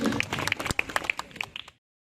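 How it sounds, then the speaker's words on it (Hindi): A small group claps for children at a school safety session, a brief scattered burst of hand claps that thins out and stops within about two seconds. "बहुत अच्छे, जोरदार ताली"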